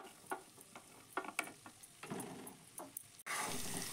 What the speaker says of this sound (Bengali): ক্যাপসিকাম আর পেঁয়াজটাকেও আমি একসঙ্গে একটু ভেজে নেব।